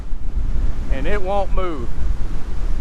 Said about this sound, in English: them waves come crashing right under here